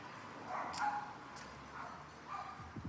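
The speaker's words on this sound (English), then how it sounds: "Lots of dogs here in Medellín, in Laureles." Dogs bark in a Medellín neighborhood (Laureles), the sound distant and faint against steady street ambience, a few scattered woofs spread across a few seconds.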